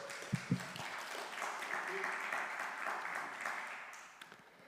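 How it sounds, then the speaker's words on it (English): Audience applause fills a live speaking event in Sarasota, Florida: a steady wash of clapping holds for about four seconds after a couple of sharp claps, then tapers off, with some talk mixed in. "Let's give Nicholas and Susan a round of applause"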